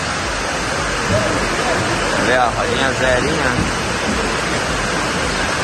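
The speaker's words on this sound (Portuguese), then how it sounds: "Aí tá uma chuvarada que só por Deus." Heavy rain pours down in a dense, steady roar of broadband noise, loud and continuous throughout, while someone talks over it.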